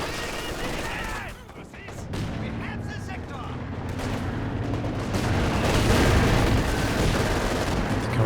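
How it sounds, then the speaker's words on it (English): Machine gun fire in a Company of Heroes 2 match: sustained rattling gunfire and battle noise building louder toward the end, with a commentator talking over it. "Machine guns involved in the action."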